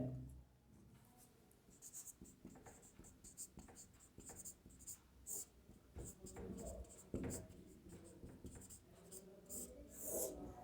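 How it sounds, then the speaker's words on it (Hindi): Chalk or marker scratching and tapping on a classroom board during a geography lecture on rocks, a steady run of short strokes heard close with no talk over it. "इधर लिख रहा हूं मैं, इसके दो उदाहरण हैं।"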